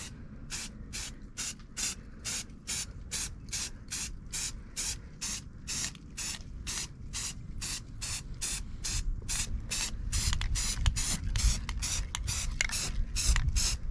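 Neon Rust-oleum spray can laying down a first coat of primer on takedown rod holders outdoors, in many short hissing bursts that repeat rhythmically and run close, with wind rumbling louder near the end.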